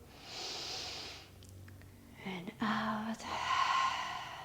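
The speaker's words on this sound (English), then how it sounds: "Breathe in and out." Slow audible breaths in and out during a yoga session, with a long airy exhale followed by a louder sighing breath near the end, close and clear in a quiet room.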